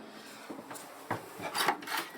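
A wooden cabin door on a Jeanneau Prestige 32 motor boat swings shut, a few soft scrapes and knocks, close and fairly quiet.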